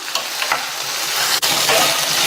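Eggplant pieces sauté in hot oil over medium flame, a loud close sizzle with stirring scrapes and a brief dip partway through, no voices.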